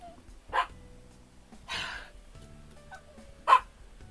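A dog barks three times in short, sharp bursts spaced about a second apart, close and fairly loud in a quiet room.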